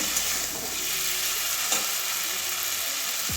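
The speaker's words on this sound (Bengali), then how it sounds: "শাক আলু এবং মশলার সঙ্গে ভালোভাবে কষিয়ে নিয়ে আসি" Greens, potato and spices for an egg curry with data shak sauté in a pan, giving a constant dense sizzle with faint stirring scrapes and a couple of light knocks, close and without talk.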